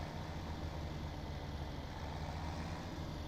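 A tractor engine in Farming Simulator 17 drones at a steady low idle, constant and even, moderately quiet with no talk over it.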